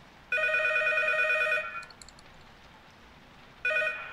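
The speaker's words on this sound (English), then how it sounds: "And the phone is ringing." Electronic telephone ringing in the horror video game P.T., one bright trilling ring of about a second and a half, a pause, then the next ring starting, over a low background hum.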